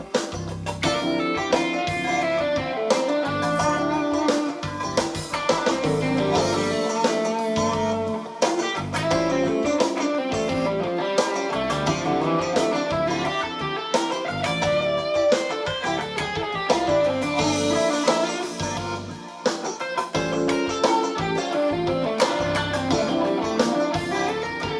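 An electric guitar improvises a melodic line in D natural minor over a full backing track, with continuous flowing notes and bends sitting on top of a steady, dense accompaniment throughout, loud and close.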